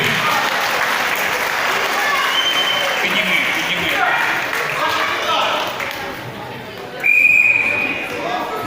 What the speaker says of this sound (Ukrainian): Аплодуємо, дорога нам, аплодуємо.